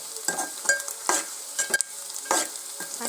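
Onions frying in a pan with bay leaf, cinnamon, cloves and cardamom for mutton curry, a steady close sizzle broken by several scraping stirs of a spoon, with no voices.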